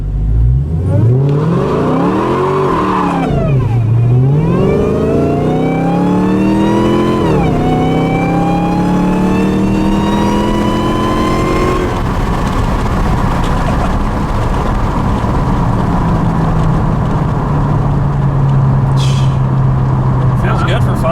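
A 2018 widebody Dodge Challenger Hellcat being rebuilt after a wreck accelerates hard with loud rising revs through several gear changes, then its tires spin and squeal in a long sustained howl, with people talking over it.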